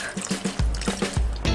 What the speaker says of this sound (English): Then you're going to add enough water just to cover the beef